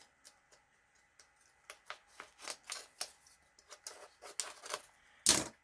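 Small scissors snip through thin book binding thread during junk journal crafting, producing a run of quiet, close ticks and snips at an uneven pace, with one sharper, louder snip near the end.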